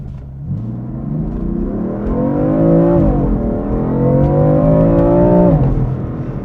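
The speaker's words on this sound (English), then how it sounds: "we're gonna do a 0 to 60 test in the M4 now" A 2015 BMW M4 with 82k miles accelerates hard from a standstill, its engine note climbing through two gears with a brief dip at the shift, loud and continuous from inside the car.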